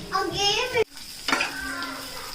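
Bitter gourd pieces sizzle in a pan as they are stirred, a soft frying hiss with a sharp clatter of utensils midway, and a voice faintly audible under it.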